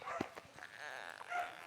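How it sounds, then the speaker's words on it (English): A dog gives a short, faint bark followed by quieter yips and whimpering, heard alone at a moderate distance. "get up, crazy dog!"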